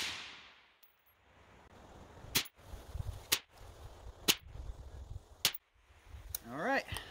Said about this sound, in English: I'm gonna go ahead and fire another group over here. This time we'll do 5 rounds